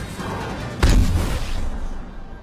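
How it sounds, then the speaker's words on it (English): A giant cannon fires in the animated film Kung Fu Panda 2, one heavy booming blast over a rumbling backdrop that slowly decays into a low roar. "he uses his giant cannon to murder Master Thundering Rhino."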